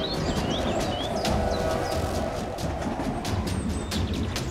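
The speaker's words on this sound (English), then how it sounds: "A train is approaching." A train rumbles along railway tracks with a steady clatter, loud and continuous, while birds chirp faintly above the noise.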